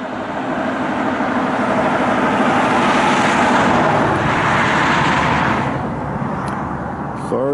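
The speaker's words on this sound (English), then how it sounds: "Sorry about the traffic noise" Traffic roars past on a mountain road in Yellowstone National Park at about 6,800 feet, a loud, continuous rumble of engines and tires that fades toward the end, with a voice faintly underneath.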